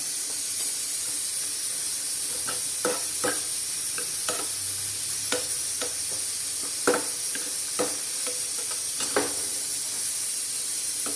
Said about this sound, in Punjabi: ਬਸ ਆਪਾਂ ਇਹਨੂੰ ਇਦਾਂ ਫਰਾਈ ਕਰ ਲੈਣਾ